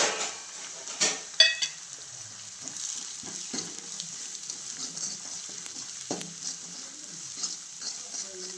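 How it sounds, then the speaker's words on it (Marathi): Oil sizzles steadily in a pan as spice tempering with turmeric and black chili powder is stirred, a utensil scraping, with occasional sharp metallic clinks against the pan. "आता थोडीशी फोडणी परतून घेते"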